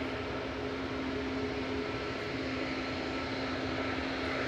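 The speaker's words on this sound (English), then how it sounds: "Ryanair from Cologne with flight 1592 coming in, EIIGY, max 8 200" A Ryanair Boeing 737 MAX 8-200 landing at Manchester Airport on a flight from Cologne makes a constant dense jet roar with a faint steady whine, loud and unbroken, with no voices.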